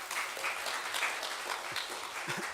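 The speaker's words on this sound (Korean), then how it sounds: "박수 한번 부탁드리겠습니다" Church congregation applauding a missionary after a Sunday worship prayer, a steady wash of clapping from a crowd throughout, fairly even in loudness with no talk over it.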